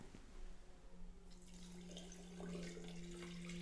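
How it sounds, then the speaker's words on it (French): A litre of water pours steadily into a glass tepache jar already holding turmeric and cardamom, a soft trickle that swells into a fuller, continuous splashing stream partway through. "on peut dès à présent ajouter le litre d'eau"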